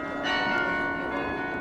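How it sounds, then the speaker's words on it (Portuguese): Carillon bells of the Mafra National Palace ring out, several overlapping bell tones sustaining and decaying together in a short, resonant passage with no voices. "o carrilhão do Palácio Nacional de Mafra voltou a fazer-se ouvir em todo o seu esplendor"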